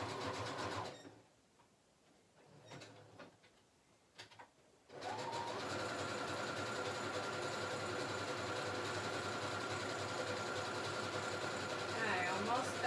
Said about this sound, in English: I'm going to do a type of a zigzag stitch here real quick.